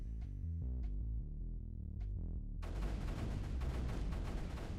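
Mortar weapon firing in the strategy video game Creeper World 3: Arc Eternal, a low throbbing tone followed by a sudden dense burst of rapid booming shots, loud and sustained to the end.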